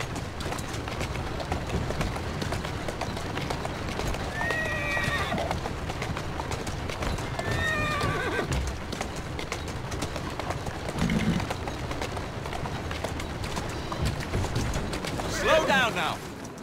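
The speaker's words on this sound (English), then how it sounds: "Who's a good horse?" A horse in the video game Assassin's Creed Syndicate clip-clops steadily along a street, with a few whinnies breaking in at intervals over a busy background and occasional talk.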